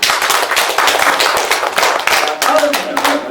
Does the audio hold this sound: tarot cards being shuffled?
no